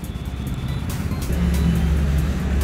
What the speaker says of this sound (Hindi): मैंने अभी स्कूटी स्टार्ट कर दी है और अब ये आइडलिंग मोड पर है